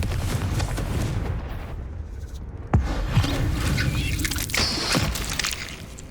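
In the Hogwarts Legacy video game, a Confringo blasting spell goes off as a sharp explosive burst inside a cave, standing out over a rumbling, noisy game soundscape.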